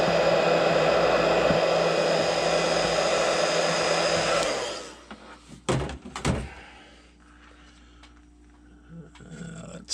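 A heat tool runs loudly and steadily while heat-setting paint on an airbrushed fishing lure, then cuts off abruptly, followed by a few clunks and faint handling noises.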